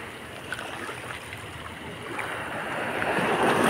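Sea waves washing ashore at night in Tuapse on the Black Sea coast, a steady broadband surf wash that swells slightly louder toward the end, with no talking.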